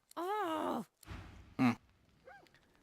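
A cat in the video game Divinity Original Sin 2 lets out a drawn-out vocal sigh followed by short breathy exhales and a faint trailing murmur, close and clear.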